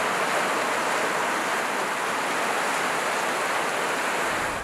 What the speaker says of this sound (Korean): 마당바우에 부딪히는 파도 소리